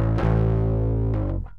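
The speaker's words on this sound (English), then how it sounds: "one of my favorite sounds that I've gotten out of this is with the fuzz all the way up, with the blend right in the middle" Bass guitar run through a fuzz pedal with the fuzz fully up and the blend set halfway: a single sustained, thick distorted note rings loud and steady, then a brief pluck near the end before it fades.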